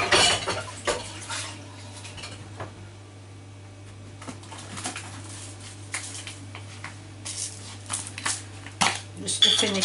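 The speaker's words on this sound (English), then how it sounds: "I'm just going to give it a grind of pepper." A pepper grinder cranks pepper over a stuffed butternut squash, a few short, close, gritty clicking bursts around brief pauses.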